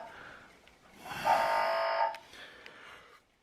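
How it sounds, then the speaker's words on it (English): A small electric buzzer-bell on the platform of a Hachette Routemaster model bus sounds once in a single buzzing tone lasting about a second, with faint clicks before and after. "There's 2 bells in here. In fact, it works as a buzzer."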